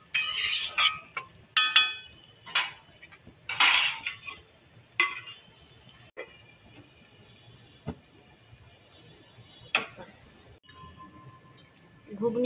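Boiled peas for ghugni stirred in a pot with salt, the spoon scraping and clinking against the metal in scattered bursts, with quieter gaps of faint kitchen background between them.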